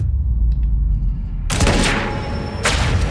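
Gunfire in the Xbox One action game Quantum Break: a sharp, loud shot bursts in at about the midpoint with a dense crackling tail, followed by a second blast near the end over a low background rumble.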